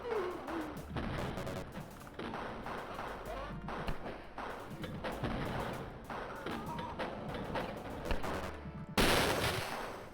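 Gunfire in the Wolfenstein 3D Coffee Break mod, a series of sharp shots and bursts repeating through the stretch, fairly loud, ending in a louder sudden blast of noise.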